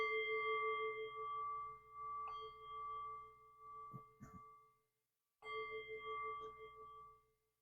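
A meditation bell rings to close a guided meditation. Two clear, sustained tones ring out and fade, the first with some soft clatter as it decays and the second struck again after a short silence, quiet and alone.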